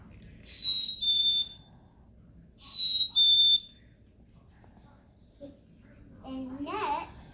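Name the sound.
chickadee call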